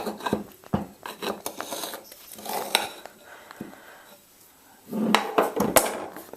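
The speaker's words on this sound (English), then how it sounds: "I'm going to get a knife, say half. So cut it in half." A knife cutting a bowl of risen homemade pizza dough in half, with scraping, clattering bowl and utensil knocks in irregular bursts, close and fairly loud.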